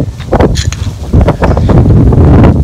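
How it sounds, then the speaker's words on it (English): Strong gusts of wind buffeting the microphone, loud low rumbling and flapping noise close up throughout. "Sorry if it's windy, it's a bit windy today."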